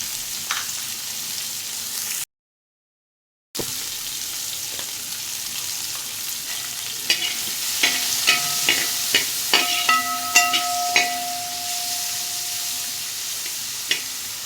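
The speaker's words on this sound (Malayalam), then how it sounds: "നമുക്കിനി വഴറ്റിയെടുക്കാം." Onions sauté in a pan with turmeric powder, giving a steady, close sizzle and hiss with a string of small scraping stir taps, and one brief drop to silence early on.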